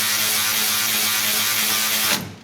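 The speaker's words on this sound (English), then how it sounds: "now I'm going to put my nuts on here and washers" Steady mechanical whirring, like a power tool running nut down with washers while a brake caliper is mounted on a 1965 Impala, continuous and close, cutting off abruptly near the end.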